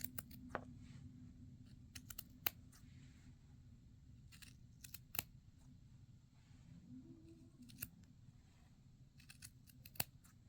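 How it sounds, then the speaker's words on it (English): Quiet, crisp snips from small scissors cutting down the center of a felted steek in knitted fabric come in short irregular bursts against a low steady hum, with no talking. "And then I like to use a smaller pair of scissors"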